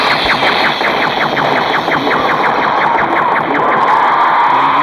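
A firearm switched to automatic at a shooting session fires a rapid, evenly spaced burst of shots, loud and close, over a constant background roar.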